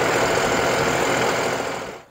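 A John Deere 5405 CRDI tractor engine runs loud and close with a dense, steady diesel rattle during a gear shift, then the sound fades and drops away at the end.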